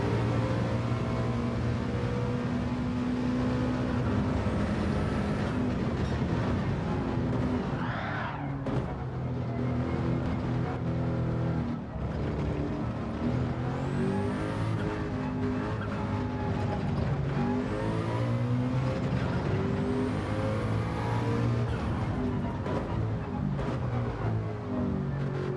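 A 3.5-litre twin-turbo V8 race car in a racing video game drones continuously, its engine note rising and falling through gear changes with occasional tire squeal, loud and unbroken for the whole stretch, with no voices.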